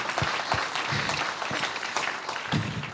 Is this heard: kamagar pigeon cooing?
no